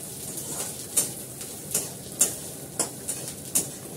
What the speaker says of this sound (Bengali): পেঁয়াজটাকে ক্যাপসিকামটাকে হালকা ভেজে নিলে ভালো হয়